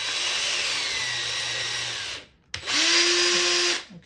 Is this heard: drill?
yes